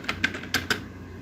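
Four crisp keystrokes on a computer keyboard, close and distinct, spaced unevenly in a short burst and then quiet.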